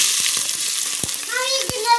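Onions and green chilies frying in hot coconut oil for a fish curry: a close, steady crackling sizzle with stirring clicks and faint voices in the background.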